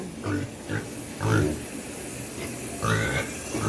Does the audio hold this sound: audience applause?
no